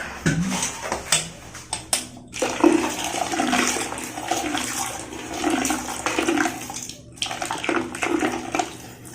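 Hot water is poured into a clogged toilet bowl after dish soap, a close, gushing splash and gurgle that surges in uneven bursts with short pauses.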